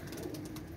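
A pair of Pakistani pigeons coos softly in a brief, steady burst of low calls, with no voices alongside.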